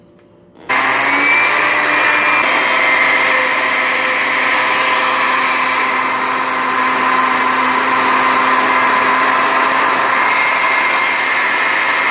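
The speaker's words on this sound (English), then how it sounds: "put this in my blender" A blender puréeing cooked pumpkin starts abruptly after a moment of quiet and runs continuously at a loud, steady whirring pitch for the rest of the clip.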